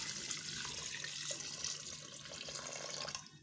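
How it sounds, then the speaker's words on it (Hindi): Water streams steadily into a cooking pot of meat seasoned with turmeric and salt for turnip gosht, a continuous close splashing pour that runs for a few seconds before easing off at the end. "और आप गोश्त के गलने के लिए आपने डालना है पानी।"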